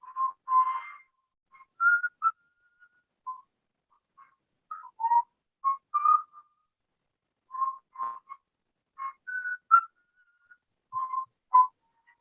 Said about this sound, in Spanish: abre silbando melodías que evocan su vínculo fraterno